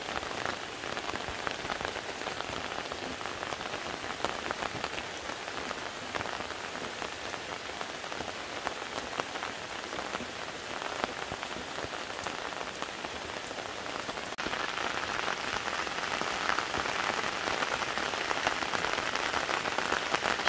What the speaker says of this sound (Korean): 오늘 오후부터 갑자기 비가 이렇게 또 계속 많이 내립니다.